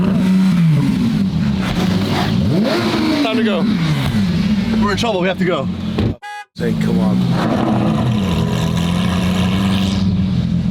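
Lamborghini SVJ with a V12 engine revving in a crowd, loud rising and falling engine sweeps and a brief horn-like toot, with excited voices talking over it nearby.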